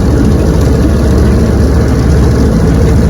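A restored Evinrude 9122R outboard motor idling during a lake test run, a loud, steady low rumble with a constant droning hum and no pauses or voices.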